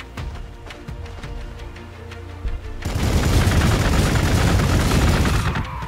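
Gunfire in the Warhammer 40k: Gladius Space Marine video game starts as scattered sharp shots, then grows into a dense, loud, sustained barrage of rapid automatic fire that lasts to the end, with no talking.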